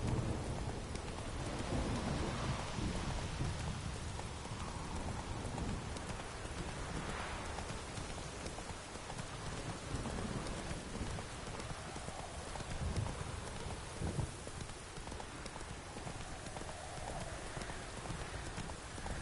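Steady rain falls in The Witcher 3: Wild Hunt, Hearts of Stone, a continuous soft hiss of drops with faint low rumbles beneath, fairly quiet and uninterrupted throughout.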